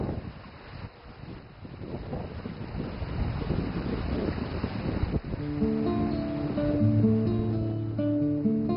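Waves on Lake Taihu, a large freshwater lake in China, roll and wash under heavy wind buffeting on the microphone, a continuous rough roar with faint melodic tones rising late.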